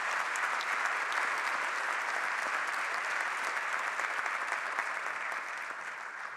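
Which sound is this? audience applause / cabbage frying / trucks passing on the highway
audience applause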